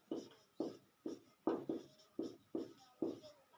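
A pen writing on paper during a class 10 math lesson, with eight short, evenly spaced scratchy strokes close to the microphone in a quiet room.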